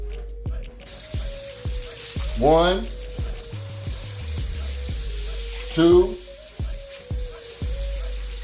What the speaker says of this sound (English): So I'm going to go ahead and add the water right now.